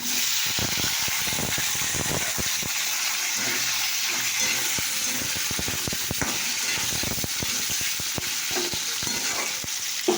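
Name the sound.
potatoes added to frying onions in oil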